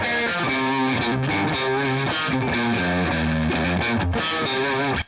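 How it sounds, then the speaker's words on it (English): Distorted electric guitar plays a southern-style pentatonic metalcore riff, a steady, loud run of chugging notes with no pauses, ending abruptly. "You can do the pentatonic scale,"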